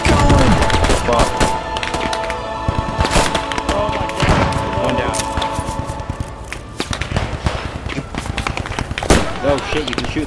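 Dense gunfire and rifle shots ring out in the military shooter Post Scriptum, loud sharp cracks and bursts in irregular clusters over ten seconds, with a voice talking at the start.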